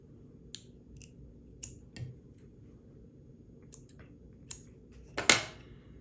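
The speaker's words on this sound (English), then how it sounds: "So I'm going to use some of my Dr. Slick scissors. So we're just going to come in and we're going to cut all this out." Dr. Slick scissors snip through fly-tying material in a series of sharp, close clicks, about eight irregular cuts separated by brief pauses, faint handling noise underneath.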